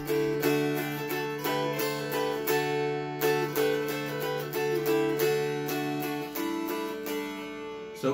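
Mountain dulcimer in four-string equidistant style playing the fiddle tune Old Joe Clark, with a steady drone under a bright, plucked melody strummed in a close, even rhythm, solo with no talking.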